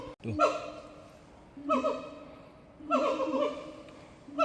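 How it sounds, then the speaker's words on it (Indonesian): Loud, wailing siamang gibbon calls rise and fall in three repeated bursts in the forest, with a brief spoken word near the start. "Itu suara siamang ya."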